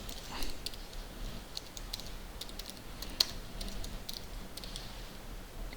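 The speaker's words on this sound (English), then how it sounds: "Forgive my slow typing." Quiet, uneven tapping of keys on a computer keyboard, a scattered series of soft clicks over faint room hiss.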